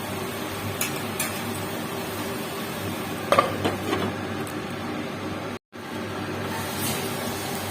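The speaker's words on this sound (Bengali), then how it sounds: "তারপর টমেটোটাও দিয়ে দিয়েছি, দিয়ে একটুখানি কষাবো।" Spice masala with tomato sizzles and fries in a pan as it is stirred, a steady hiss with a few clinks and scrapes of the utensil against the pan and one brief break in the sound.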